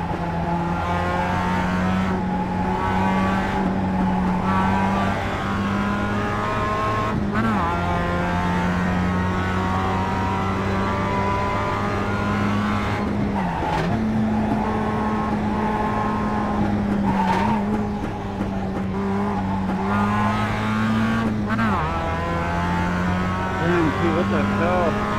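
Mazda MX-5 race car in the iRacing sim at Lime Rock Park, its engine droning steadily and loud throughout, with pitch dips as the driver lifts and shifts for braking zones; spotter radio talk is faintly present.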